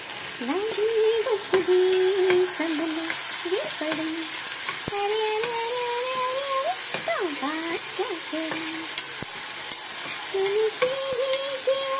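Ginger garlic paste fries in hot oil for a home-style egg masala, giving a steady, close sizzle throughout with stirring and a wavering tonal sound over it.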